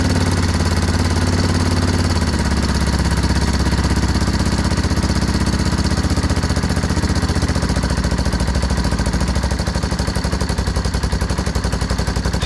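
Engine of a Yamaha Timberwolf 250 ATV, recently tuned after sitting for 18 years, running close by: a loud, steady, rapid-firing single-cylinder putter that holds an even rhythm without voices.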